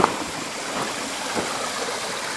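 Water pours steadily over a small overflow weir on a stream, a continuous broadband rushing and gurgling that stays even and close throughout, with no voices.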